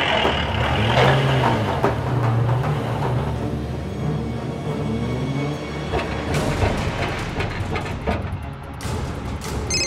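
A tempo truck loaded with old furniture drives along, its engine droning steadily and loudly throughout with rumbling road noise and occasional rattles.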